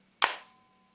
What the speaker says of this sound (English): When I fire the shutter